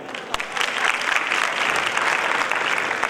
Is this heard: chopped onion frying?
no